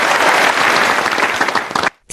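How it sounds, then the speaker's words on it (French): Warm applause from an audience at a faith-based conversation event, a loud, dense burst of many hands clapping that cuts off sharply after about two seconds into near silence. "Applaudissements chaleureux."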